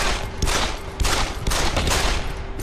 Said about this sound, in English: Eat blind pistol shots.